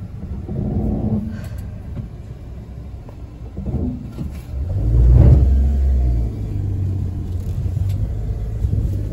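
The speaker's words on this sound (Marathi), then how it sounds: "आणि आता मी घेऊन जाणार आहे ती कार." A car pulls out through a gate on a steep uphill driveway in rural Konkan, its engine rumbling low and swelling to a loud revving surge midway before settling into a steady idle.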